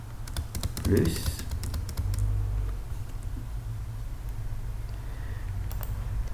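Keys on a computer keyboard clatter in quick bursts while C code is written, close and fairly crisp, under and between a man's speech in French.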